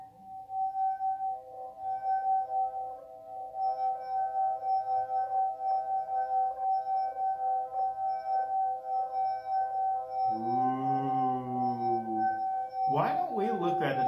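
Several wine glasses ring together as a major chord, a steady, pure sustained tone with faint overtones, followed near the end by a brief sung or spoken voice over the ringing.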